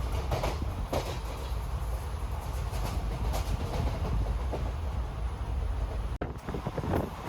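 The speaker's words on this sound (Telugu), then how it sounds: "జస్ట్ మా ట్రైన్ ఇప్పుడు ఆలువ స్టేషన్ దాటి ఎర్నాకుళం వైపుగా వెళ్తుంది" A passenger train runs past Aluva station towards Ernakulam, with a steady loud rumble and rattle of the carriages and wind noise throughout, close by and continuous, and a brief dropout near the end.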